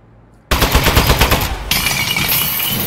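A turret in the video game Aperture Desk Job opens fire with a sudden loud burst of rapid machine-gun shots that keeps going without pause after a quiet start.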